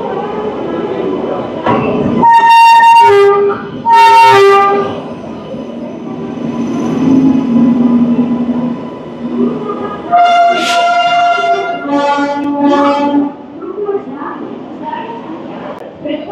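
A Duronto Express train at Bhubaneswar station, with two loud horn blasts followed by a longer sequence of horn tones over steady rumbling and platform noise.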